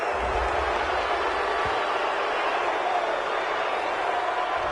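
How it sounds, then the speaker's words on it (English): A stadium crowd in a football video game reacts to a penalty call with a dense, steady roar of voices that holds at a constant level throughout, with commentary faintly audible beneath it. "this crowd does not like that call"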